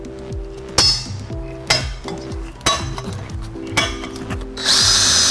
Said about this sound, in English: Before you do that, you need to center punch or you're gonna drill the holes.